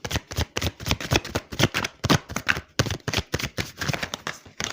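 Oracle cards being shuffled for a reading, a close, brisk series of papery riffling strokes repeating in quick succession throughout, with no talk.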